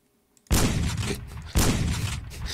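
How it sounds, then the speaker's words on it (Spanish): Two loud, harsh video game gunshot blasts ring out about a second apart, each followed by a long rumbling, crackling tail. "Le he pegado cuatro balazos"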